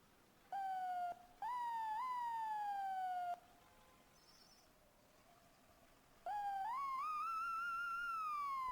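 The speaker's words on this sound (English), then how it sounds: "It's got a different siren than the other ones." An emergency vehicle siren in the video game EmergeNYC wails in clean electronic tones: two sweeping bursts, a short lull with a softer hooting tone, then the siren climbs back in loudly and holds to the end.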